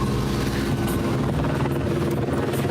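A sheriff's helicopter flies close by, its rotor and engine making a loud, steady droning whir that holds without a break for the whole stretch.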